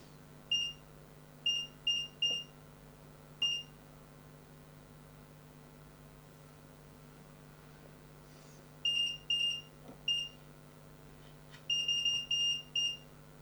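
Repeated electronic beeps from a multimeter continuity test on an AWA Radiola 81A radio, sounding in short bursts of two to four tones with long pauses between, moderately close over a steady low hum.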